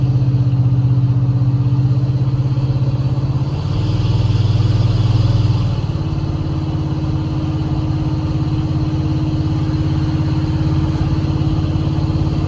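A 1965 Chevrolet C10 pickup truck's engine runs steadily with a low, droning hum that rises briefly in a slight rev, then settles back to a constant close rumble, with no talk.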